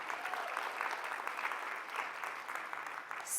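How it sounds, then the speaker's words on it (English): Sustained applause from a conference audience, a dense steady wash of many hands clapping at moderate level that runs the whole time without pause. "Big round of applause for all of you"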